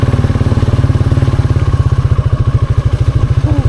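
Motorcycle ridden over a rough, hard-packed dirt road on a farm, its engine thumping in a fast, even rhythm, loud and close, with rattling clatter over the bumps.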